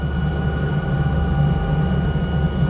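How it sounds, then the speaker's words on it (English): Alouette French helicopter in the video game Microsoft Flight Simulator, a steady engine and rotor drone with a low throb and whining tonal hum, constant and fairly loud with no talk. "this is the Alouette helicopter that we got last week, the French helicopter"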